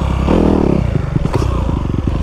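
A Honda CRF250R dirt bike revs up close and loud for wheelies, its engine rising in a quick blip and then settling into a rough, rattling mechanical idle.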